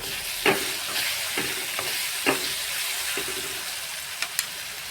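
Fresh coriander tossed into a hot frying pan sizzles steadily while a spoon clinks and scrapes in occasional stirring strokes, a soft continuous fry heard up close with no talking.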